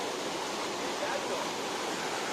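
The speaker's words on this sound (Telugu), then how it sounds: "ఈ ఫారెస్ట్లో one of the best water fall ఇది రామ్సర్ వాటర్ ఫాల్" Ramsar waterfall in Lankamala forest, heard from above as a steady, dense rush of falling water, continuous and fairly loud with no breaks.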